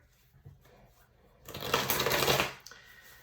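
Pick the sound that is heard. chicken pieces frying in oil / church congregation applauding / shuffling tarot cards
shuffling tarot cards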